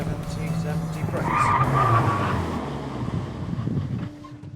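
A hot hatch, a Hyundai, braking hard from 70 mph on a test track, its tyres squealing and skidding loudly for a couple of seconds before the car settles, with someone talking over it.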